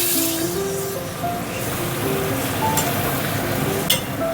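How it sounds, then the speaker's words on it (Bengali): Hot water poured into a pan of fried potato masala for aloo dum, giving a steady, loud hissing sizzle throughout with a faint clink near the end. "এবার একটু জল দিয়ে দিই।"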